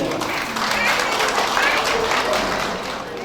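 Wedding guests at a Nepali ceremony break into sustained group clapping to show consent, a dense steady wash of applause from a crowd with voices mixed in.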